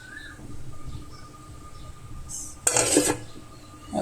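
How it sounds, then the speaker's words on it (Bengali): Rice being rinsed in a metal pot in a home kitchen before cooking, with soft swishing and a short burst of clattering pot and grain noise near the end, over a low steady background. "চাউলগুলো ধুয়ে নিই"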